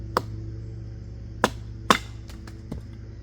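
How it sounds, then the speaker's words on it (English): A Beavercraft AX1 hatchet chops into wet material, giving three distinct sharp strikes followed by a few lighter knocks, close and over a low steady hum. "this is zipping right through this material"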